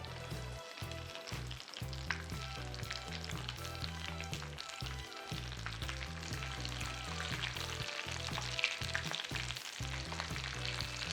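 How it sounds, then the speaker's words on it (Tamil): Potato and Maggi noodle snacks deep frying in hot oil give a steady, loud, dense sizzle with rhythmic bursts throughout, and no voices. "இந்த மாதிரி டீப் ஃப்ரை பண்ணி எடுத்துட வேண்டியது ஒரே நிமிஷம்"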